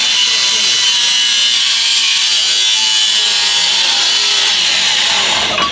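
A power cutting tool slices through porcelain at a builders' trade show demo, giving a loud, steady high-pitched grinding whine that runs continuously throughout without pause.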